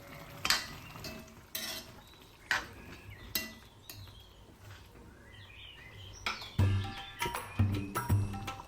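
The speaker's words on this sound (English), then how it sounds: "Now mash and mix well." A spoon or spatula mashes and stirs food in a pan in a home kitchen, giving repeated scraping clinks and soft squelches in uneven bursts, louder toward the end, with no talking.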